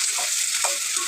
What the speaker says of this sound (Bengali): এইবার আমি তেলে এইগুলো দিয়ে দেবো। হ্যাঁ, দিয়ে একটু হালকা নাড়াচাড়া করে তারপর আমি মশলাটা দিয়ে দেবো।